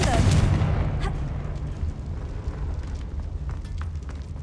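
A Confringo fire-blast spell bursts in Hogwarts Legacy, a loud booming explosion at the start that fades into a rumbling, crackling tail with some background game sound.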